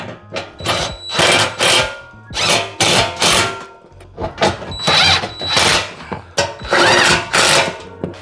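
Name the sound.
tightening a bolt with a 13mm socket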